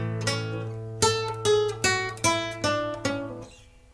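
Solo flamenco guitar plays a short alegrías escobilla phrase without its pickup notes: about seven crisp plucked notes and chords in an even rhythm, close and moderately quiet, then a brief ringing decay.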